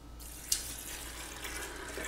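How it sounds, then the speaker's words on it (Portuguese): Water runs steadily from a tap into a pot for bean soup in a home kitchen, a continuous close hiss and splash with a small clink near the start. "Agora eu vou botar logo a água, ó."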